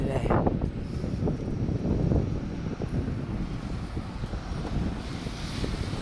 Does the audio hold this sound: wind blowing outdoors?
yes